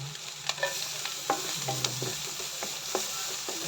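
Garlic fries in a hot pan, a steady close sizzle broken by several sharp scrapes and taps of a spatula as it gets stirred, with no voices over it.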